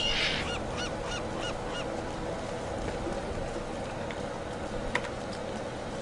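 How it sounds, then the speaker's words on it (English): Seagulls call in Path of Exile, a string of honking, squawking cries over a steady bed of game ambience. The calls are moderately clear, with no speech over them. "Seagulls."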